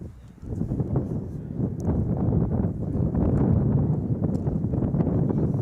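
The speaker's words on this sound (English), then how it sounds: "It's a very windy day in Chicago" Strong wind at an outdoor women's soccer match in Chicago buffets the microphone in continuous low rumbling gusts, loud and close, with no one speaking.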